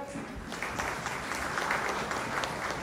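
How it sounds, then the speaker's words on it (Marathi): A church congregation breaks into applause at a New Year service, a dense sustained clapping from many hands that stays fairly faint and distant, swelling slightly toward the end. "काय तुम्ही टाळ्या वाजवणार नाही काय?"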